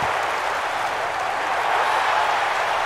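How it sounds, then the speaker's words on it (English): Golf gallery applause and cheering from the crowd in the EA Sports PGA Tour video game, a steady swell of clapping held at moderate level for a few seconds with no talk over it. "Love it that the crowd is in it."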